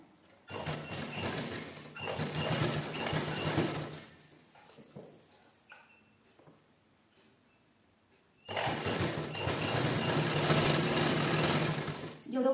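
Sewing machine stitching a sequinned sari into a door curtain, two long bursts of steady rapid whirring separated by a few seconds of quiet handling noises, close and loud.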